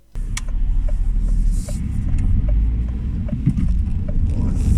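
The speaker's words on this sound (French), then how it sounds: "Passons maintenant à l'essai routier, donc d'abord sur route à macadam" A Citroën C3 drives on an asphalt road during a road test, giving a steady low cabin rumble of engine and tyres with a few small clicks, heard from inside the car without talk.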